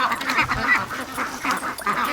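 Newly hatched ducklings, a busy stream of rapid, high peeping and chirping calls close by, continuing throughout without pause.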